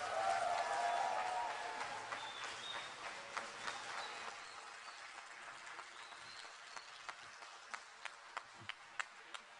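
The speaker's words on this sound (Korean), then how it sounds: "연주자들 위해서 박수 한번 많이 쳐주시고" Audience applause for the band musicians at a concert, starting as full clapping that thins to scattered individual claps, with some talk mixed in.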